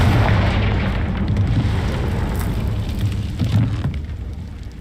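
Confringo fire spell blast in the Hogwarts Legacy video game: a loud, sustained rumbling explosion with a booming low roar that slowly fades over a few seconds.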